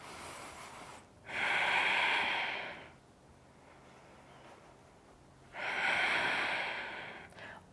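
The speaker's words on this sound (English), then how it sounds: "Breathing." Two long, audible breaths during yoga practice, each a slow airy rush lasting about two seconds, separated by quiet pauses, close and breathy with no talking.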